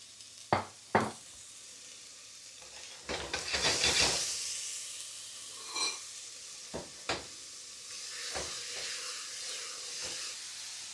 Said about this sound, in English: Then we're going to saute the soffritto.